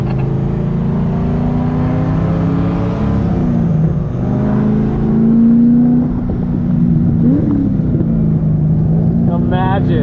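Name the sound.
car engine with burble exhaust tune on race circuit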